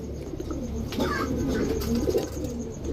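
A male silver pigeon gives soft, low cooing calls close by, a short murmuring burst over a quiet background.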